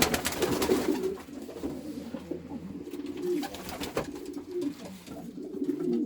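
Homing pigeons cooing in a loft while a mother pigeon feeds her single chick. Soft, rolling coos repeat close by over faint background noise, with no talking.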